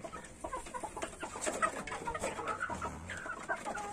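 Hens clucking together in a coop with a rooster among them, a steady overlapping chorus of short clucks and calls, fairly close and continuous throughout.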